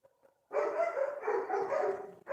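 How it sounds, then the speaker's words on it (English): Several dogs barking hard in a neighborhood as a garbage truck approaches: a sustained, loud stretch of overlapping barks that starts abruptly after a brief quiet moment and continues without pause. "These dogs are barking so hard because the garbage truck is coming"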